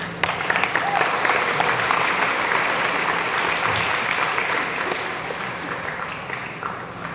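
Audience applause in a madrasah hall, a sustained crowd of clapping hands, loud at first and slowly tapering off over several seconds.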